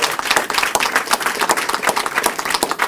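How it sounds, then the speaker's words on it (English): Crowd applauding a police chief at an outdoor news conference, brisk close clapping with rhythmic bursts, continuous and fairly loud. "Let's give him a round of applause."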